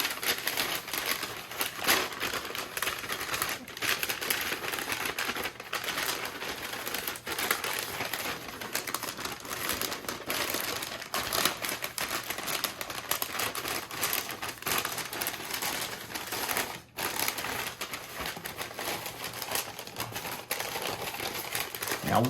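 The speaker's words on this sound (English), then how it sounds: "now that I have this tube of brown paper, I'm going to go ahead, fold it in on itself" A tube of brown paper being folded in on itself for a parrot foraging toy gives continuous dense crinkling and crackling, close and steady throughout, with a few brief pauses.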